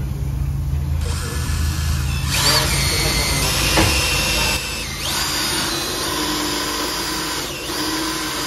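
A power drill whirs loudly and close up while boring into a tyre puncture for repair. The motor surges and changes pitch in uneven bursts, with a low rumble underneath.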